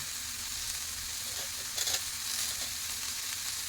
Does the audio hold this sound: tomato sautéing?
yes